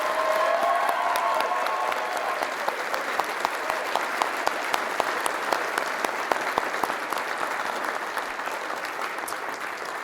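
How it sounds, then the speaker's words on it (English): Applause rings out for dedicated student competitors at the EcoCAR EV Challenge awards ceremony, a continuous spread of clapping from a large hall with sharper individual claps popping through the wash. "A big round of applause for these incredibly dedicated students."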